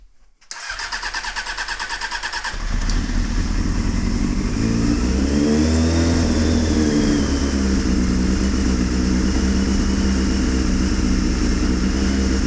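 A four-cylinder carbureted car engine with the choke on cranks with a rhythmic starter whir and catches, then runs loud and close with a rough, uneven idle that rises and settles.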